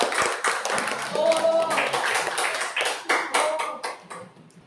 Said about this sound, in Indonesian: Beri aplaus dulu untuk